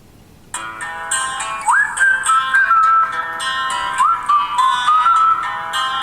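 A whistled melody plays from a tablet's small speaker, bright and steady with gliding pitch bends, fairly loud and continuous after a brief quiet start.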